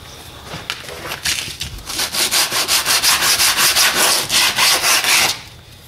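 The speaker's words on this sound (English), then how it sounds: "now all I need to do is sand it down" Sandpaper rubbed back and forth along the sides of a freshly cut craft piece, a steady rhythmic series of close, loud rasping strokes that speeds into even pulses before stopping abruptly.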